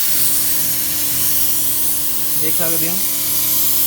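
A paint spray gun sends out a steady broadband hiss of atomised paint, close and continuous, while someone speaks briefly over it.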